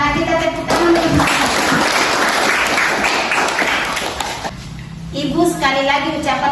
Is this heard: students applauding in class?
yes